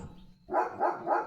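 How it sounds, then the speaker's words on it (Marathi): German shepherd dog barking at its home gate, three loud, evenly spaced barks in quick succession after a quiet moment, with no talking. "हे बघा लिओ किती जोरजोराने भुंकतोय"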